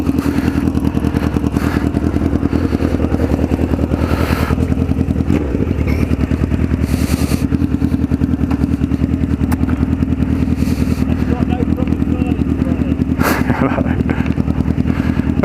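Honda Fireblade motorcycle ridden around the block, a steady close engine drone with a rapid pulsing rhythm and wind buffeting, a few brief throttle blips and clattery bursts along the way.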